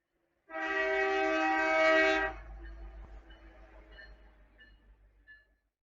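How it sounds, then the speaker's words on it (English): A train sounds a long, loud, harmonic horn blast lasting about two seconds, then rumbles past more faintly as the horn fades, with no talking over it. "Let me pause here for this train."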